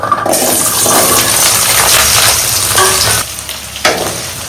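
Onion and garlic hitting hot oil for a dried-fish gravy, a loud, dense, close sizzle that swells then eases slightly, with a few stirring scrapes and no voices.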